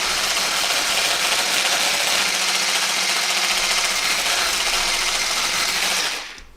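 An electric mixer whisking cream for a Thanksgiving pie, a loud steady mechanical whir with rattling beaters running close and continuously before cutting off at the end.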